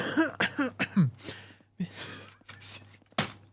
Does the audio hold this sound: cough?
yes